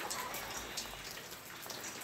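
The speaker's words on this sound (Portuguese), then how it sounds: "Hoje amanheceu chovendo e não sei se vai passar" Steady morning rain falling outdoors near a garden of potted plants, a continuous dense patter of drops on surfaces with no voices.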